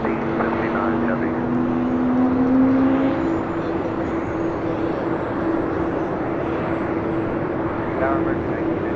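A United heavy airliner rolls for takeoff on runway 25 right at LAX, a broad continuous jet roar with a steady engine tone, heard under radio chatter and a voice talking.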